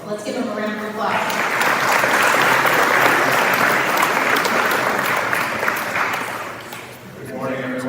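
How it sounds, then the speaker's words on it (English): An audience at a weekly press conference bursts into sustained applause, many hands clapping steadily for several seconds before fading, with voices speaking briefly before and after. "Let's give him a round of applause."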